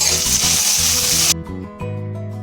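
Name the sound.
sautéing onion, ginger, garlic and green chili in a pan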